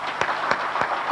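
An audience at an Emerald Direct event claps in time, four evenly spaced loud claps over a low crowd murmur lasting just over a second.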